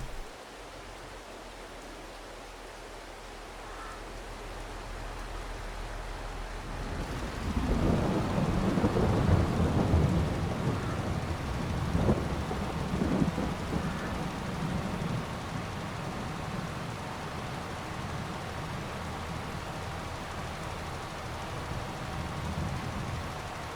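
Rain and thunder from the Farming Simulator 22 video game: steady rain hiss, then a deep rolling thunder rumble swells in after several seconds and lingers under continuing rainfall.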